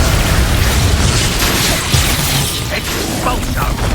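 Incendio fire spell cast in the Hogwarts Legacy video game, a dense, loud whooshing burst of flame with booming low rumble and crackle filling the whole stretch, with no talk over it.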